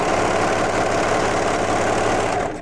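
A sewing machine running continuously while stitching pajama pants fabric, a steady mechanical whir with rapid needle chatter, close and loud, stopping abruptly at the end.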